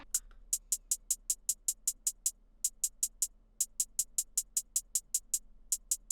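A crisp, bright hi-hat ticks out a fast, steady pattern of sharp hits with brief gaps between phrases, playing alone over a faint low hum.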